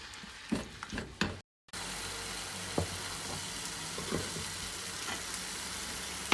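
A tamarind toffee mixture seasoned with chaat masala cooks down until thick in a pan, giving a steady, dense sizzle and bubbling hiss that runs on evenly after a brief break, with no voices.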